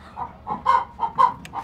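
Two chickens in a farm coop give a quick burst of close, soft clucks, several short rhythmic calls in under two seconds.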